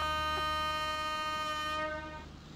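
The Mumbai Central–Ahmedabad Double Decker Express sounds a single long, loud, steady train horn at the station, holding for about two seconds before cutting off with faint platform background.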